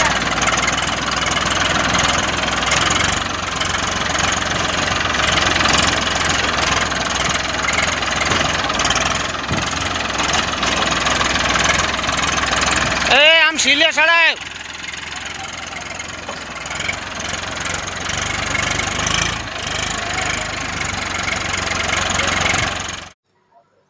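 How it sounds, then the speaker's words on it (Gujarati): A tractor engine drones steadily and loudly as it is driven, with a short spoken phrase around the middle before the sound cuts off abruptly at the end. "મારી વાઈફ અત્યારે ટ્રેક્ટર ચલાવે છે"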